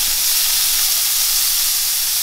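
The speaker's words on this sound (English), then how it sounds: "So throw the shrimp in." Shrimp tossed into a frying pan coated with cooking spray sizzle in a loud, continuous, steamy hiss that fills the whole moment, with no one talking.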